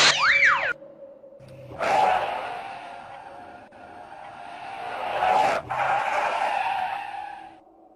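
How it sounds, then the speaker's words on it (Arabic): A car tire blows out and skids, a sharp rising squeal and then long harsh scraping screeches that swell, break off and return, loud and close, with no talking. "أحد الإطارات انفجر."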